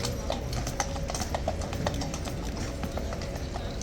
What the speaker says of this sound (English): This horsey slipping a little teeny bit in front of me then.